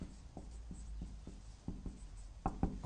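Chalk or marker strokes on a board during a lecture, a series of short tapping and scratching strokes in an irregular rhythm over faint room hum, with no talk.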